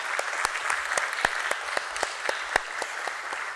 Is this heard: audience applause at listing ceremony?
yes